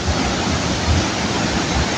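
Apo Falls in Claveria, Misamis Oriental, pours with strong flow, a dense steady roar of rushing water filling the space without pause.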